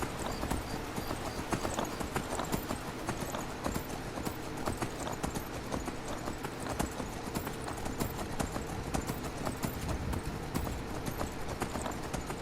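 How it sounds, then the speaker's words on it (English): Horse hooves in Skyrim while riding, a fast continuous clip-clop galloping rhythm, close and steady for several seconds with no talk. "Jump on your horse, cross the bridge, take a left"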